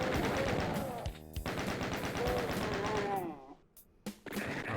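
Chaingunner machine-gun fire in the Doom game The Plutonia Experiment, a dense rapid stream of loud gunshots that breaks off abruptly, followed by a few scattered shots after a brief lull.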